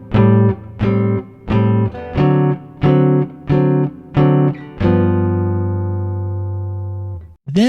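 Jazz guitar chords strummed in an even blues progression, eight short clipped chords in a steady pulse before a final chord rings out and decays, with no voices.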